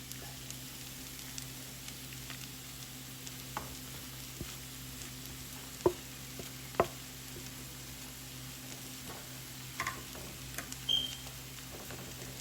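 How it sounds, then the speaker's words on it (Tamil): Brinjal (eggplant) sizzles steadily in a frying pan as it goes in, a low continuous hiss of frying with a few soft clinks and stirring knocks over a faint background hum. "இப்போ இதுக்குள்ளே கத்திரிக்காயை போட போகிறேன்"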